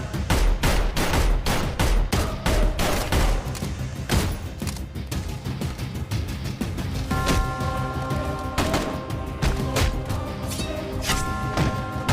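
Dense gunfire from a shootout in the Hindi action film Suryavanshi, rapid overlapping shots and bursts crackling loud and continuous, with a ringing musical tone joining under the shots toward the end.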